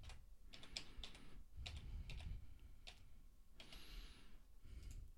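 Quick bursts of keys clicking on a computer keyboard, in irregular clusters with short pauses, close and fairly quiet.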